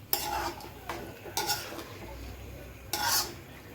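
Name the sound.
stirring and mixing chilli chicken ingredients in a pan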